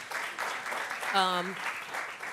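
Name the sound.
applause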